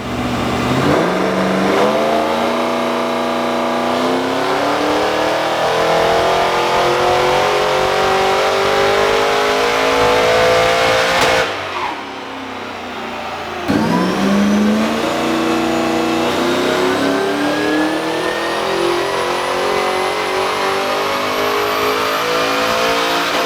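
Supercharged 383 stroker V8 on an alloy LS1 block, fitted to a VY one-tonner ute, revving hard on a dyno running 98 fuel. The engine sweeps up through a long, loud pull, cuts briefly, then climbs again steadily.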